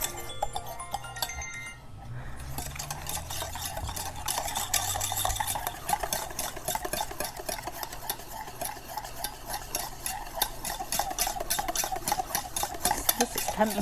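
Egg yolks whisked for hollandaise sauce, a fast, even, rhythmic clatter of the whisk against the bowl that keeps up steadily throughout, close and fairly loud, with a brief low rumble early on.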